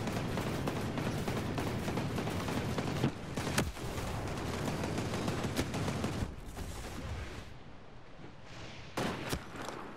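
Heavy, sustained gunfire from a sniper exchange roars close and loud, with dense bursts and a few sharper cracks near the end, no talking over it.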